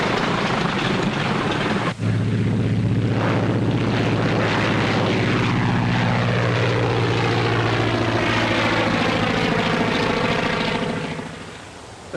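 In a 1939 film, a propeller airplane drones loudly and steadily overhead. The engine pitch sweeps as the plane passes, then the sound fades at the end.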